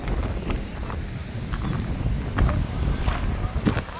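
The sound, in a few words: wind at the beach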